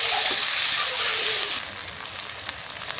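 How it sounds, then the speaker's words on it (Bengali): Ginger, garlic, green chilli and dried red chilli paste hitting hot oil for a Bengali chicken curry, a loud bright sizzle that drops to a softer, steadier fry halfway through. "এবার দিয়ে দেবো আদা বাটা এবং রসুন বাটা, সাথে দিয়ে দেবো কাঁচা লঙ্কা এবং শুকনো লঙ্কা বাটা"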